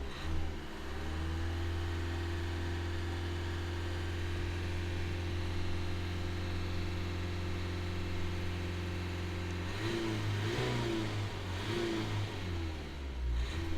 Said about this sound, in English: So see that's 73 degrees, so just let's rev this up here.